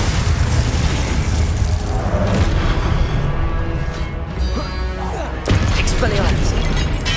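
A Glacius ice spell cast in Hogwarts Legacy, a dense sustained magical roar with a booming burst near the end, loud and continuous amid game battle noise.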